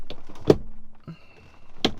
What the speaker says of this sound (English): is what it looks like just shifting through all the gears